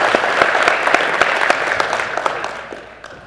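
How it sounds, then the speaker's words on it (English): A round of applause from the crowd at a racing hall of fame induction ceremony, dense clapping with sharper individual claps standing out, gradually fading toward the end. "I want to give them a round of applause"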